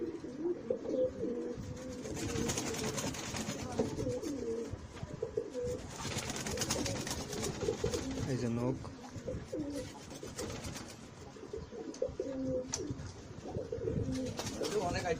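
Silver Pankhi pigeon chicks cooing, repeated low throaty coos close by alongside rustling and handling sounds, with someone talking over them at times.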